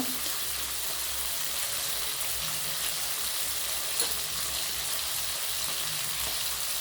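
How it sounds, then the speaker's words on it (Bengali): Crab pieces, first boiled with salt and turmeric, fry in a hot pan with a steady, dense sizzle that holds evenly throughout, close and fairly loud, with no talking. "এটাকে একটু আমি ভেজে নেব দু এক মিনিটের জন্য"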